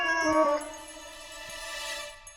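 A single drawn-out cat meow, close and clear, with a tonal rising-then-fading cry in a quiet room.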